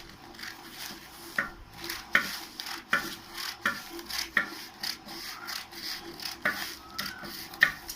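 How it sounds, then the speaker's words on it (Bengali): Scissors cutting fabric into the back-piece shape of a garment for sewing, a close, dry run of rasping snips and scrapes repeating in an uneven rhythm with no voices. "এবার দেখো কাটছি, এই অবধি আমার রাখলাম, কাটবো।"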